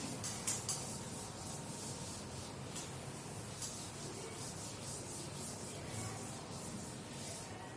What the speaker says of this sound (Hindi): इसको रब कर लेते हैं